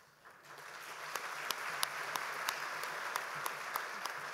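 Gala audience at a chamber of commerce event breaks into applause that swells from quiet to a steady roar, with a few sharper individual claps standing out above the crowd.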